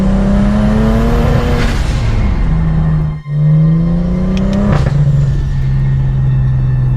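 A BMW engine drones and bogs while driving, its pitch climbing, dropping and surging unevenly with a brief cut-out mid-way, loud and close with a rough, shaky rumble.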